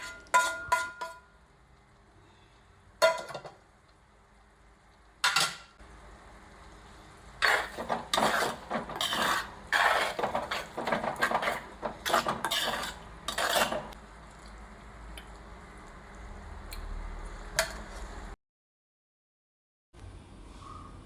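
A spoon scrapes and clinks against a clay pot while prawn roast is stirred in masala, giving repeated bursts of scraping and knocking over a low sizzle. The sizzle goes quiet near the end.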